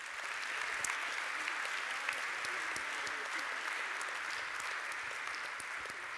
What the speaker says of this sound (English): can we again give all six of them a big round of applause